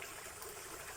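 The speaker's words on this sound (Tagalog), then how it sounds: "So ayan, so ito na yung sapa dito." Shallow creek water flows continuously, a soft, steady broadband rush and trickle that sounds fairly faint and uniform, with no voices or other sounds.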